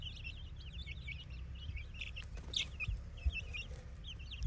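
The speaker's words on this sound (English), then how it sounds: "All right, I got all the chickens out here." Chickens cluck and call outdoors in a farmyard just outside their coop, a steady run of short, fairly close clucks and squawks over a low background rumble, with no talking.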